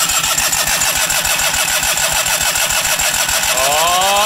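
A Kohler opposed twin engine cranks over with a loud, fast, even chugging rhythm from the starter, steady throughout, ending in a rising whine.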